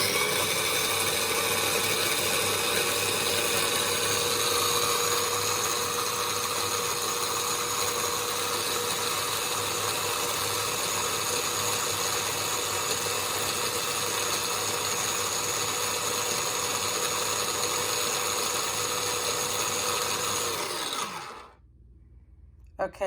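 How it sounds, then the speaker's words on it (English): Electric grinder whirs steadily for about twenty seconds while grinding za'atar spices, dried oregano and a teaspoon of salt, then winds down and stops near the end; loud, close and continuous. "now I'm going to grind it up and I'm going to make za'atar"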